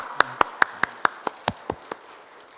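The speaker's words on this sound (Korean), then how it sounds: "이 시간 우리 하나님을 찬양하는 마음으로 할렐루야 하면서 박수로 영광 올려드리겠습니다" A church congregation claps in unison during an evening worship service, nine or ten sharp, evenly spaced claps ringing through the room, close and distinct, then fading and softening toward the end, with no voices in between.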